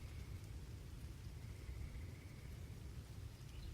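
Steady rain falls with a low rumble of thunder beneath it, a faint and continuous wash of noise that sits in the background of a fantasy setting.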